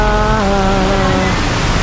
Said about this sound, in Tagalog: Grabe lakas ng ulan, oh.